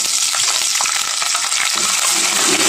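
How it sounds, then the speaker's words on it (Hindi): Ginger garlic paste frying with browned onions in a pan for chicken bhindi, a loud, close, continuous sizzle with scraping stirring sounds throughout and no talk. "हीट निकल जाने तक 1 से 2 मिनट के लिए हम इसको फ्राई कर लेंगे"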